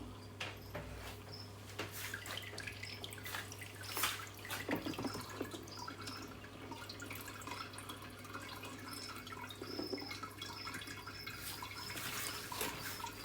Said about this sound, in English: So there you can see that we're simulating some rainfall. Got the water falling inside of these tubs.